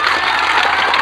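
A crowd applauds and cheers a coaching-centre teacher at a celebration of students' top ranks; the dense clapping fills the brief moment continuously and loudly, close by.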